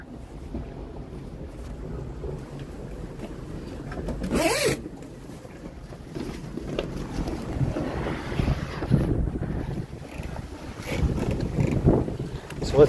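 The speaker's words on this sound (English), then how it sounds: "It's gonna be windy though." Wind blowing around a 38-foot Island Packet sailboat on an ocean passage toward Fiji: a steady rushing roar with gusting swells and one sharp, loud burst partway through.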